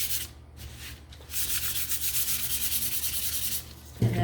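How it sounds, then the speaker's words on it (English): A wooden Thanks and Giving sign is hand-sanded quickly: steady, close, scratchy rubbing strokes in a continuous rhythm, with short pauses near the start and no talking. "I'm just going to give this a quick sand."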